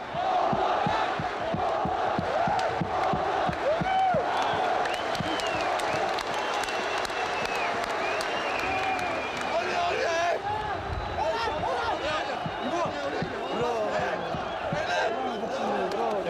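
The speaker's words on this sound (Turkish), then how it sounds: "Beşiktaş taraftarı kendi takımına isyan ederken Altay'ı alkışlıyordu." Large stadium crowd of Beşiktaş fans at İnönü Stadium during a 1997-98 league match against Altay, a continuous dense roar of clapping and cheering that holds steady throughout, with scattered shouts rising above it.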